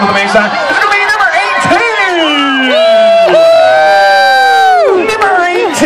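Crowd at a Hogway Speedway pig race yelling and cheering their pigs toward the finish line, a loud sustained wall of excited voices with shrill whoops rising and falling throughout.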